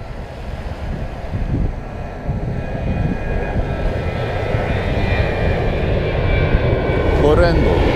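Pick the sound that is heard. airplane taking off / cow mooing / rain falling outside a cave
airplane taking off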